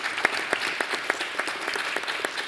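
Brief applause from a school safety town hall audience honoring a panel and a superintendent, a steady patter of hands clapping with distinct individual claps standing out.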